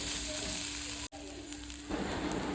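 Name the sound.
coriander, cumin and garam masala powder frying in oil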